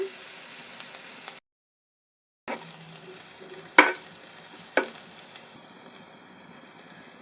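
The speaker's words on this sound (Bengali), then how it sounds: "এখন দিয়ে দেব পেঁয়াজ কুচি তারপরে দিয়ে দেবো কাঁচামরিচ কুচি" Chopped onion and green chilli frying in a pan, an even close sizzle with a few sharp stirring clicks, cut by about a second of total silence near the start, then resuming steadily with no talking.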